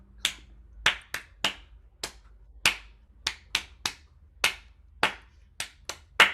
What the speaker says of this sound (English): Now we're only gonna do claps.